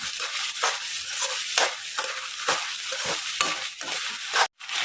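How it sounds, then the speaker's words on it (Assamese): Rice being stirred and roasted in a pan on the stove, with steady scraping and stirring strokes over a continuous dry sizzle, close and fairly loud, with a brief break near the end. "এতিয়া চাউলখিনি ভালকৈ ভজা গৈছে"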